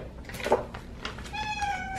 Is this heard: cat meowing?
yes